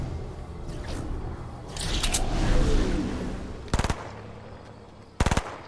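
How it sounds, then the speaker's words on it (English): Two short, sharp bursts of automatic video-game gunfire from other players ring out over a steady rumbling game background, with no talking. "Oh, these people are shooting."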